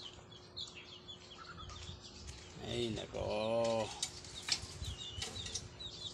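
Soft clucking of newly hatched chicks and small chirps close by on a farm, with a brief voice exclamation over steady background hum.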